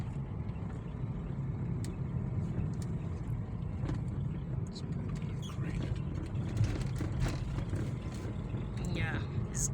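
Car rolling steadily along a smooth graded, untarred dirt road, a continuous low rumble of tyres and engine from inside the vehicle, with quiet talk and small rattles over it.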